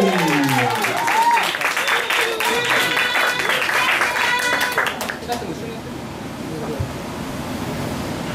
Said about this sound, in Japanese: 東京タッチに大きな拍手。